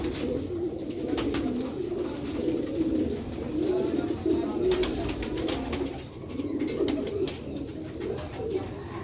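Pure old-breed Sialkoti pigeons coo in a steady, low, rolling rhythm, close and continuous, with occasional sharp chirps and clicks from other birds overhead.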